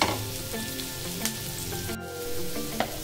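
Onions sizzle and fry steadily in a pan for a Manchurian gravy, with occasional stirring clinks cutting through the continuous close crackle; no voices.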